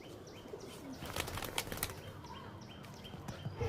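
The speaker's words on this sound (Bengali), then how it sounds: "এই বাচ্চা উড়বে কি তোমার কি মনে হচ্ছে উড়বে?" A young pigeon is released at a loft and beats its wings in quick, loud flaps. The flapping is close and comes in short bursts over a few seconds, with faint coos around it.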